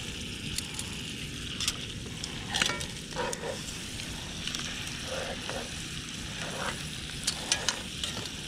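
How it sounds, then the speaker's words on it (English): Mud crab legs frying in butter over high heat at a beach campsite, a steady close sizzle with scattered pops and occasional stirring scrapes, no talking. "get the legs and everything into the uh, into the butter where it's going to sizzle away and get nice and toasty"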